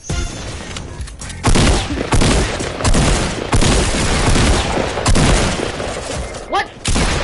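Gunfire in the battle royale game Fortnite, with dense loud bursts of rapid shots filling most of the moment and a brief lull near the end.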